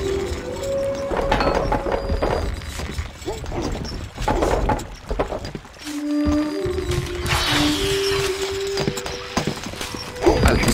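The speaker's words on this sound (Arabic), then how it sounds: "الحصان سريع." Rapid hoofbeats of a galloping horse clatter steadily in the video game Stronghold Crusader, mixed with game sound effects, a brief whinny-like tone and scattered impacts.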